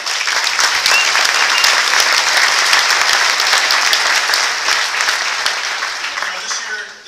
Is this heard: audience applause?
yes